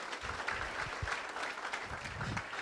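An audience at a sales orientation event claps steadily, a dense wash of hands filling the room throughout, moderately loud with no voices standing out.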